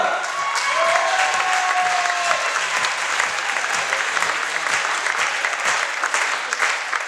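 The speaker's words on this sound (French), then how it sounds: "Un tonnerre d'applaudissements pour le responsable du Looky Club, Mister Julien" A crowd gives sustained, dense applause for the leader of the Looky Club at a presentation in Port Camargue. Steady, loud clapping fills the stretch with faint tonal whistles near the start.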